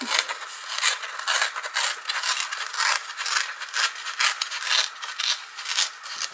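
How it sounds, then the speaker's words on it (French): Scissors cut paper for an art journal: close, rhythmic rasping and crisp scraping strokes repeat in quick bursts, bright and dry with no voices. "Je vais découper ici aussi."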